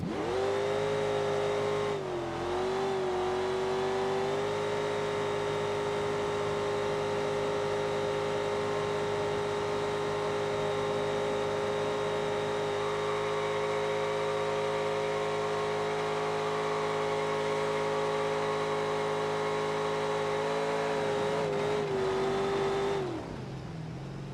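A car in BeamNG doing burnouts on a dock, its engine held at a steady high rev with a droning tone for about twenty seconds, dipping briefly near the start before winding down at the end.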